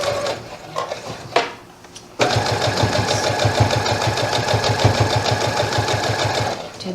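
A sewing machine stitches layered skirt pieces, starting with a few hesitant short runs and then racing in a fast, steady mechanical chatter for several seconds, close and prominent.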